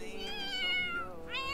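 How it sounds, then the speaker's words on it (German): A cat in Die Sims 4 meows in drawn-out, whining calls, two close and clear meows with no talk over them. "Katze, bitte sei leise."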